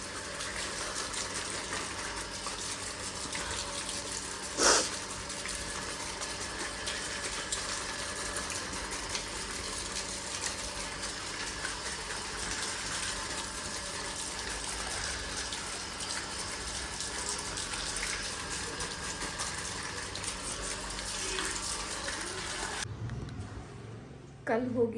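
Tap water runs steadily at close range as banana and mango leaves are washed for a puja, a continuous gushing flow with one brief clatter near the start, then a sudden stop at the end.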